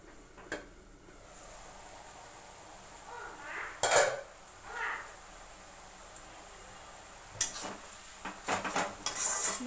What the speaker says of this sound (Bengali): ভালো করে একবার নেড়ে দিলাম।